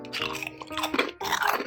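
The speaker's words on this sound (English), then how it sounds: "They have a nice crunch to them." Quaker caramel rice crisps crunched between the teeth, loud close bites and chewing in a few rapid brittle bursts, dry and crackly with no talk.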